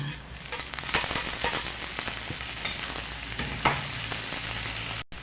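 Chopped onion and chicken gizzards fry in a pan with a steady crackling sizzle, joined by occasional stirring clicks, close but moderate in level with no talking, and cut off abruptly near the end.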